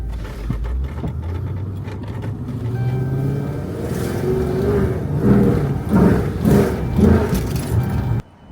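A rebuilt Dodge SRT8 car runs with a low engine drone, then rising bursts of revving and tire scrubbing as it spins, loud and close, ending abruptly.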